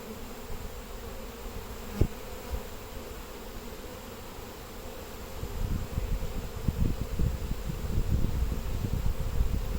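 Honey bees hum steadily from an open hive, a close continuous buzz that swells slightly louder toward the end, with a sharp click near the start.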